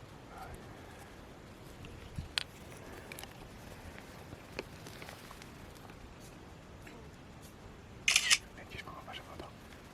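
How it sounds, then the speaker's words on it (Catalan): A single-lens reflex camera shutter fires while photographing a butterfly on a nature trail, with a soft click early on and a sharper, louder burst of clicks near the end, under quiet outdoor ambience and people talking. "en Xisco li farà una foto que se vegi més o manco bé"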